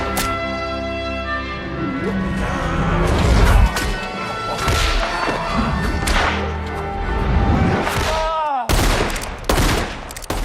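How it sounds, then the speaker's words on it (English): Gunfire in a Django film scene: several sharp cracking shots and impacts burst over a dense orchestral music score, with a sudden near-silent break before a final loud shot, dramatic and loud throughout. "The sound of gunfire brings the landowner outside."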